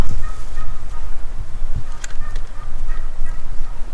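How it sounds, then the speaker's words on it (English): A hen wild turkey calls in spring woods on Michigan Upper Peninsula public land, giving a few short, clear yelps over a steady low background rumble, with no talking. "That's not a turkey, it's a hen."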